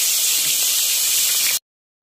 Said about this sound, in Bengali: একবারে হবে না, আমরা দুইবারই মাছটা ভেজে নেব।